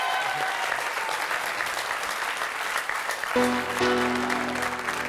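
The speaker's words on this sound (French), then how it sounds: "je vais vous demander d'applaudir très très fort Henri et Raoul qui ont bien joué avec nous." A French TV studio audience applauds steadily for a few seconds, a dense even wash of clapping, then a low musical tone enters underneath as the applause carries on.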